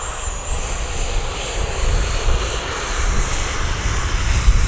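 Arrows RC Marlin 64mm EDF model jet taking off from thick grass, a steady loud ducted-fan whine with a high tone sweeping upward at the start as the throttle comes up, rushing airflow throughout.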